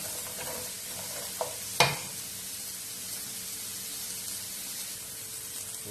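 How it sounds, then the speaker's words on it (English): Steady frying sizzle of carrot and onion in a pan, a broad hiss with a brief clatter of a utensil partway through. "Just going to cook this carrot and onion a little bit,"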